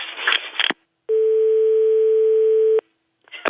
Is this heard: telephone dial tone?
yes